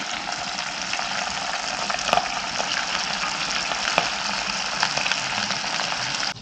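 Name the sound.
chicken deep-frying in oil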